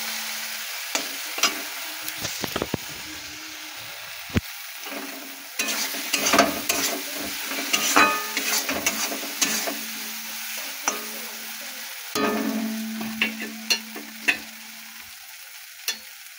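Spice paste fries in oil in a pan and is stirred now and then, a continuous close sizzle marked by scraping strokes and knocks of the spoon against the pan.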